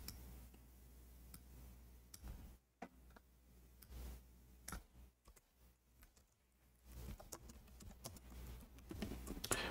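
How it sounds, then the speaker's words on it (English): Computer keyboard typing, a series of faint, sparse key clicks in irregular bursts against quiet background noise, with a few pauses between runs of keystrokes. "If we type here"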